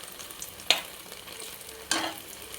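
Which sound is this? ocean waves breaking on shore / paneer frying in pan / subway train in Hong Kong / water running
paneer frying in pan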